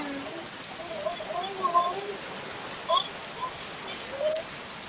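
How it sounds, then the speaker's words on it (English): Rain falls in a faint, steady hiss outdoors near a beach, with a few soft drops and splashes standing out from the wash. "Oh no, it's raining!"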